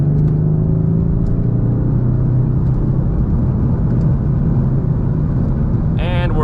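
A Mercedes C63s AMG V8 accelerating hard, a loud rising engine roar with a deep rumbling drone from inside the car, steady throughout with a brief shift near the end.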